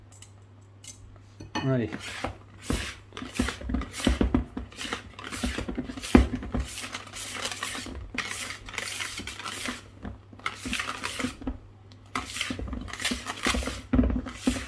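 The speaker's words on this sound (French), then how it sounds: "je vais aller au fouet, ça ira plus vite" A whisk beats chocolate cake batter in a bowl, sugar-free and flour-free, giving fast, steady metallic clicks and scrapes that run nearly throughout, with a brief spoken word near the start.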